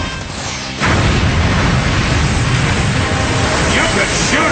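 Gunfire and explosions from a Transformers Cybertron video game battle on a volcanic island, a dense, loud wall of booming blasts that kicks in sharply under a second in and rumbles on without a break.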